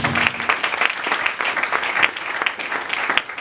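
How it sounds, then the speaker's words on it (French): A church congregation claps loudly for the Lord, dense sustained applause from a crowd, close and energetic throughout. "Acclamons très fort pour le Seigneur"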